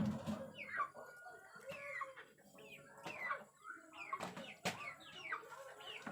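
Several chickens cluck and squawk close by in short, repeated bursts, with a few sharper calls breaking through.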